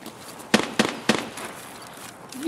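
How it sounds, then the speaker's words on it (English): Three sharp gunshots fired in Escape from Tarkov, spaced about a quarter second apart, loud and close over a quiet background, followed by a faint rising tone. "Shooting a few."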